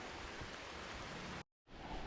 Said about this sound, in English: rain's getting harder and harder